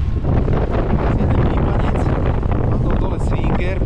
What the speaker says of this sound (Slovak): ale strašne fúka